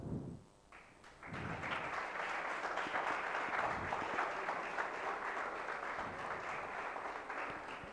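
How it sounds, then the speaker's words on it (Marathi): A crowd bursts into sustained applause for a winner at a project competition prize distribution, with a short pause and some thumps at the start before dense, even clapping carries on to the end. "पूनमसाठी जोरदार टाळ्या वाजत राहिल्या पाहिजे."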